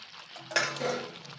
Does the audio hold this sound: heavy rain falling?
no